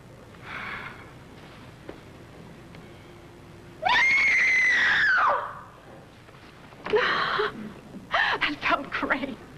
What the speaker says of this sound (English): Then scream.